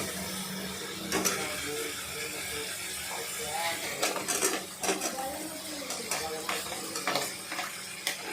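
Metal utensils scrape and clink against a pan in irregular strokes as potatoes are stirred in oil over a soft sizzle, with faint background voices.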